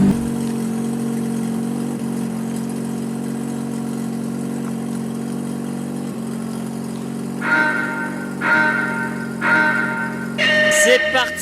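A nimble car fitted with a handbrake running on a precision driving test, its engine droning steadily at a fairly loud level, then revving in several rising bursts near the end.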